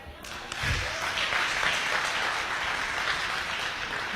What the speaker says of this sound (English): Are we going to clap or not?